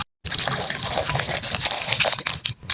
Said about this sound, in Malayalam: നമുക്ക് ആവശ്യത്തിന് വെള്ളം ഒഴിച്ചെടുക്കാം.